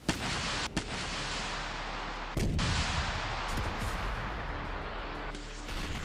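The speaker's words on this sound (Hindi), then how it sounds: "रुक रुक कर धमाकों की आवाजें आ रही हैं।" Explosions from bombing in Gaza: a few sharp distant blasts, one heavier boom with a rumbling tail around the middle, over a constant hissing, noisy background with no speech.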